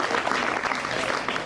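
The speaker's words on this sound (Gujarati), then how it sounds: "તો ખાસ કરીને આપણી શાળાના બાળકો માટે બધા એક વખત જોરદાર તાળી પાડે" An audience at a school Republic Day event in India clapping loudly for the schoolchildren who performed, a brief, dense burst of applause.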